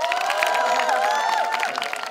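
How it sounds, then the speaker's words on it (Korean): Wedding guests at a traditional Korean ceremony outdoors at an arts centre clap and cheer in a steady, dense burst, with raised voices and whistle-like tones mixed into the crowd noise throughout. "큰 박수가 있었습니다."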